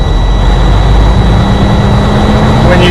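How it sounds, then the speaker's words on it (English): A truck's diesel engine is held at raised revs of about 1200 to 1400 RPM to drive the air compressor that fills the air tanks, giving a loud, steady, unbroken low rumble with a faint high whine throughout. "I'm going to increase my engine RPMs to about 12 to 1400 to assist my air compressor in pushing air into my tanks."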